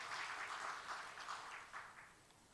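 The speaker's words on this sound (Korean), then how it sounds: "박수하겠습니다" Applause from a church congregation during a Sunday worship service, welcoming a member home on leave; a steady wash of many hands clapping at a moderate distance, fairly faint, with no talk over it.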